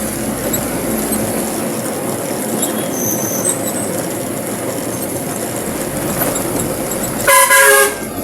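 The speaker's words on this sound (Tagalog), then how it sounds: "Busina tayo guys kasi kurbada." A vehicle horn honks loudly near the end at a road curve, a short burst over steady engine and road noise.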